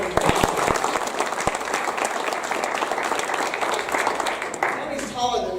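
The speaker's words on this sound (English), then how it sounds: "So I think we owe him a round of applause." Audience applause for Councilman Waring at a Phoenix community meeting with the police chief, a steady burst of many hands clapping that swells at the start and holds for several seconds before tapering.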